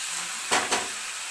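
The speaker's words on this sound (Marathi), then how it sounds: "आता यामध्ये लगेच घालूया टोमॅटो आणि लगेच घालायची कोथिंबीर. छान असं परतून घ्यायचं." Tomato and coriander sautéing in a pan for Maggi noodles, a steady soft sizzle broken by two quick stirring swishes in the middle.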